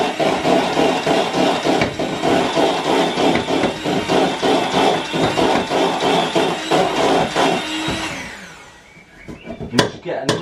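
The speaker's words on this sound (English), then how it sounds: "And then we're just going to whisk again." Cheesecake filling whisked in a bowl, a loud close rhythmic rubbing and churning that runs steadily before slowing and fading out, followed by a few light knocks at the end.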